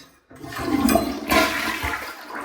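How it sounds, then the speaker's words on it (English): A smart toilet with a built-in bidet and a 1000 g MaP-rated flush rushes and gurgles as it empties, the water surging loudly twice over a couple of seconds with no talk. "Before you take this out, you need to flush the toilet."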